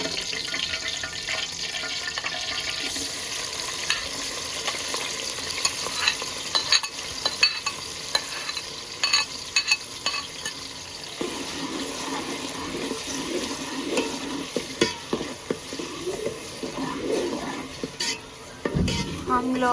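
Tomatoes, green chillies, green garlic and ginger frying with spices in a village kitchen in Punjab, Pakistan, a steady close sizzle with stirring scrapes and occasional clinks of the pan running throughout.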